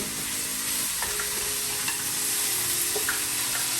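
Tomato seafood soup being stirred in a pot, a steady bubbling simmer with a few soft scraping touches of the spoon, close and fairly quiet, no talking.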